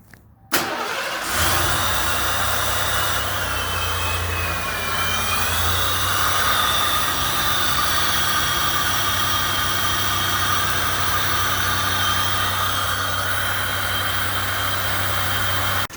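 A 1988 Ford Thunderbird engine cranks briefly and catches, then settles into a steady, even idle that hums on close and loud for the rest of the stretch.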